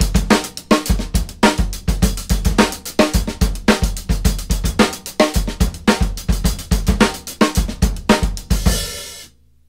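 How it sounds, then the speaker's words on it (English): A drum pattern played with the hands split between hi-hat and snare: a steady, driving stream of sharp hits with punchy low thumps, close and loud, repeating evenly for about nine seconds before cutting off into a brief cymbal wash. "your right hand will play any of the one or and notes on the snare drum"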